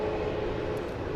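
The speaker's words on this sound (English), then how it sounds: "There it is. So that's the Learjet." A Learjet departs Dallas Love Field at night, its jet engine a steady broad roar heard at a distance for a brief moment, with no voices.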